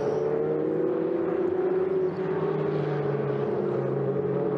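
Ferrari Challenge Coppa Shell race cars lap Circuit Ricardo Tormo, a steady sustained engine drone with harmonic whine holding throughout, close and loud with no pause.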